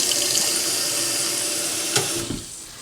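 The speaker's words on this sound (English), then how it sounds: "Let's pop some water in there." Water pours steadily into a vintage-style camping lantern, a continuous close splashing stream that tapers off near the end.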